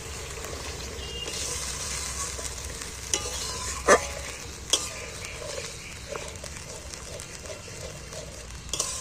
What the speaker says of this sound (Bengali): এইবার আমি মিক্সার ধোয়ার জল একটু সাইড দিয়ে দিচ্ছি।